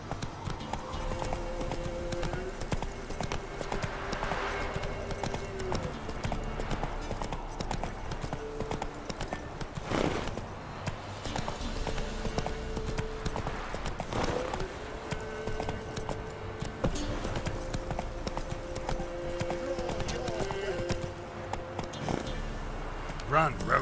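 Roach, the horse in The Witcher 3, gallops with steady rhythmic hoof clops over a continuous game soundscape, with occasional voice and ambient swells mixed in.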